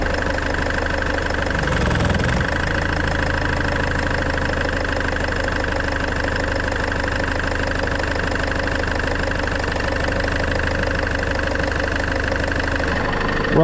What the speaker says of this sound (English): if you've done lock to lock with the engine on, up on jack stands